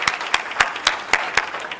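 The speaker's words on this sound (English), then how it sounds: "I just want to applaud Giovanna" At a patient education conference, sharp hand claps ring out in a slow, steady rhythm, about four per second, sounding like only a few people applauding nearby rather than a full crowd.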